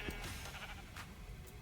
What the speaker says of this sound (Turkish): Kırmızı koyun.